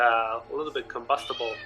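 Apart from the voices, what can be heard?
cat meowing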